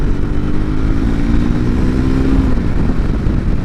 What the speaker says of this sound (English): if you do want to pick the revs up a little bit, it will hitch its skirt up and it will go